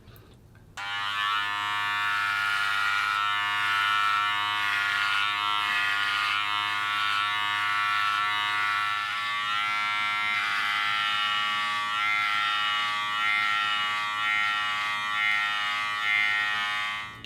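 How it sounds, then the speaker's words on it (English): A Wahl Senior cordless hair clipper buzzing continuously and loudly up close, its steady motor drone shifting in tone as it runs through hair. "I'll have to run the clipper against that to get a good cut"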